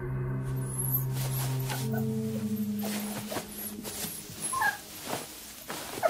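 A wounded white puppy whimpers and yips in a series of high, thin cries close by, against a low steady hum.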